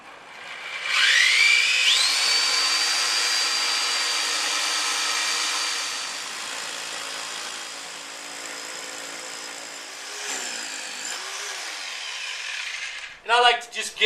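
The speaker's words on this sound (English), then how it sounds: "So let's go ahead and drill." A masonry bit drills into a concrete shop floor for anchor holes, giving a loud continuous whining drone that runs for about twelve seconds, dips briefly near ten seconds, then stops with a few short clattering knocks.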